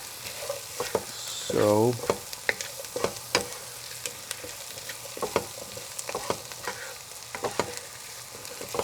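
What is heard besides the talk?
potatoes frying in a pan for Persian lentil soup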